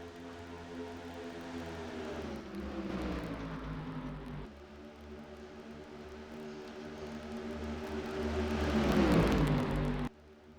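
Simulated race cars at a Michigan oval in a video game race drone past with steady, layered engine tones that rise and shift in pitch, building louder before cutting off abruptly.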